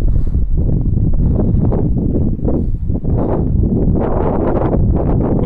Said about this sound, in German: Man merkt auf jeden Fall, dass es deutlich windiger ist.